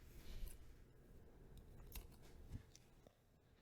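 Scissors snipping through crochet yarn, a few quiet crisp snips close by in an otherwise hushed room.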